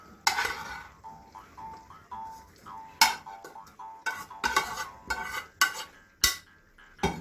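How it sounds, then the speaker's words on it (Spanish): Vegetables being stirred into charquicán in a pot: irregular metallic clinks and scrapes of a spoon against the pot, several sharp knocks spaced a second or so apart, close and fairly clear with quiet gaps between. "Uniremos todo otra vez revolviendo"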